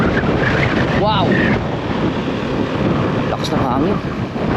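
Strong gusting wind buffets the microphone in a continuous loud rumble across the whole stretch, with brief voices exclaiming over it.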